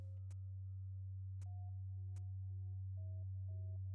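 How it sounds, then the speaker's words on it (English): Procedurally generated ambient music in the hex-tile roguelike game Sverdheim, soft sustained sine-like tones stepping between pitches over a low steady drone, punctuated by a few sharp clicks. "The weird ambient generative tones."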